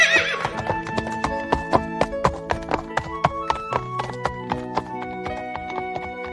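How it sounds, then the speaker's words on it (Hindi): A cartoon horse gives a shrill neigh at the start, followed by quick, rhythmic hoofbeats galloping steadily and fairly close, accompanied by a music-like tonal backdrop. "घोड़े को छोड़ दो।"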